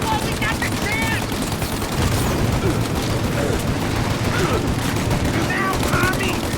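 Sustained battle gunfire from Mafia: Definitive Edition, with dense machine-gun rattle and occasional heavier booms. It is loud and continuous for several seconds, and shouting voices are mixed in.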